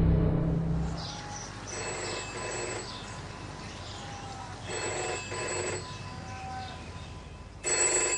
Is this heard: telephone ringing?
yes